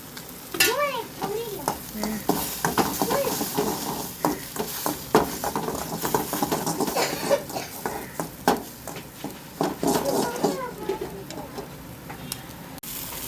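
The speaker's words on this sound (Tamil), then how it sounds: "நான் இப்படி வறுக்கிறேன்." Goat brain fried in a pan with chilli powder for moolai poriyal, giving a steady close sizzle and repeated scraping of a spatula against the pan, with a faint voice in the background.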